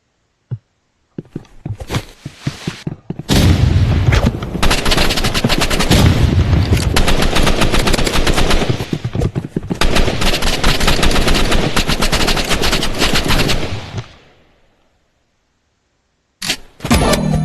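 Sustained automatic gunfire in the video game Rivals roars loud and continuous for about ten seconds after a few scattered opening shots, cuts to silence, then briefly resumes.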